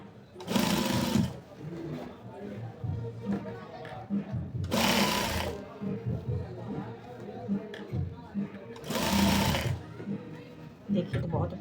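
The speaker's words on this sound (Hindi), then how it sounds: "वापस इसी पे सिलाई करते हुए यहाँ पे वापस हम लॉक करेंगे" A sewing machine stitches a coat-style collar on a kurti in three short bursts of running stitches, with steady talk between and over the runs.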